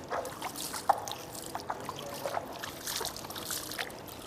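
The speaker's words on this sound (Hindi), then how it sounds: "आप पानी लें और इस तरह पानी डालते जाएं और खिलाल करते जाएं।" Water poured over the feet during Islamic ablution (wudu), a faint, close trickle and splash with soft intermittent drips, no talk.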